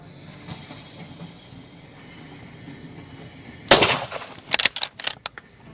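A rifle shot rings out at a running wild boar on a shooting range, one loud sharp crack followed by a quick series of rattling metallic clanks after a quiet stretch.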